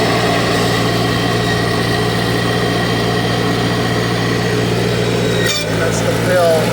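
A 1953 Farmall Cub tractor idles steadily and close by, a continuous low engine drone with a brief dip near the end, while people talk over it.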